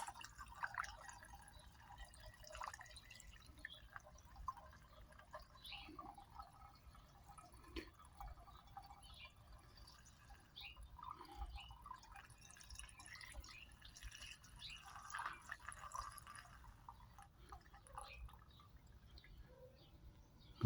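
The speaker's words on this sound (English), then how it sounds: "We're gonna put a little funnel. So we're gonna empty all the liquid there." Liquid fuel system cleaner empties from a bottle through a small funnel into a car fuel tank, a faint, irregular trickling and dripping that runs steadily in a quiet setting without speech.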